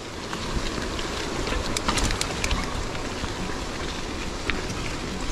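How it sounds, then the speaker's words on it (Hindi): Rain falls on a mountain trail on the way to Pindari glacier in a steady hiss of drops, with a continuous low rumble underneath and occasional sharper patters close by. "बारिश भी हो ही रही है अभी भी।"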